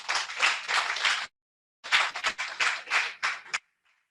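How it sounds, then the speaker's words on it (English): An audience at a university valedictory session claps in two bursts of applause, a short pause of silence separating them, ending with a few scattered claps. "A round of applause."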